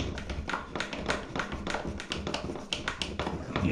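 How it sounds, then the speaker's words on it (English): Screws being driven into an exhaust fan make a dense run of close, rapid tapping and scraping clicks that continues steadily with no voices. "Just start screwing them in."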